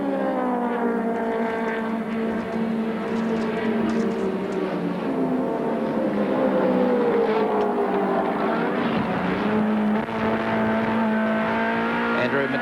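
A Ford Sierra touring car at the Bathurst 1000 screams by with a loud, continuous engine whine that rises and falls in pitch as it pulls away, with a commentator's voice faintly under it.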